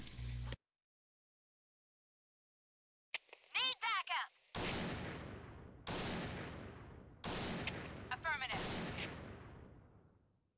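MP7 submachine gun fire in a video game: several loud bursts of rapid shots separated by short pauses after a stretch of silence, with voices talking in between and over the shooting.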